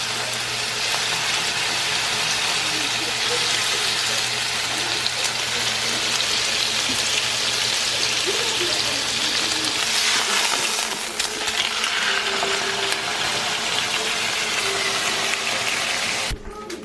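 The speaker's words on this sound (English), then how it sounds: "now that I kind of seared them a little bit" Birria meat sears in an Instant Pot, giving a steady, loud, broadband sizzle and hiss with no break for the whole stretch.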